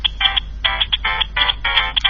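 A phone ringtone plays as a loud, close electronic melody of rapid bright beeping bursts repeating in a quick, bouncy rhythm.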